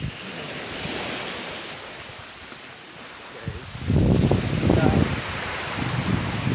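Wind rushes across the microphone over the wash of surf, then voices begin talking over the steady blowing.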